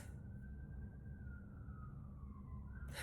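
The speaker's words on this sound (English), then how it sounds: "You hear it? The sirens from a distance." Faint emergency vehicle sirens wail in the distance, a single rising and falling tone drifting slowly over a constant low background rumble, with no voices present.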